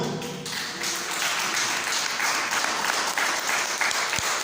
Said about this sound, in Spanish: Glorifiquemos el nombre del Señor con un aplauso para su gloria